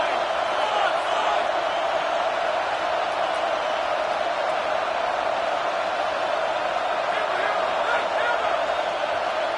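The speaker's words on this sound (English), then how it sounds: "Listen to this crowd just shaking the girders of this place" A college football stadium crowd at a USF versus Tulsa game roars loudly and continuously, a dense, steady wall of cheering that never lets up across the whole stretch.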